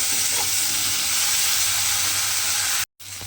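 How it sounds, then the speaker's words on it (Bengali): Eggplant dusted with turmeric fries in hot oil in a pan, giving a loud, dense, continuous sizzle up close that cuts out abruptly for a moment near the end. "বেগুনটাকে প্রথমে আমি একদম লাল লাল করে ভেজে নেব"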